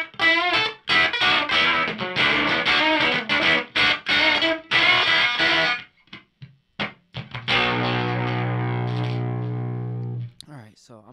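An electric guitar played through a Mruzrite fuzz pedal gives a sputtering, starved fuzz tone, choppy gated notes and chords that break off, then one loud sustained buzzing note that rings out and cuts.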